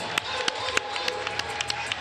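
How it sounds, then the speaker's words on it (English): Crowd at an amateur boxing event in a recreation hall applauding, dense steady clapping with sharper individual claps standing out over a noisy room, voices in the background. "Let's give him a round of applause."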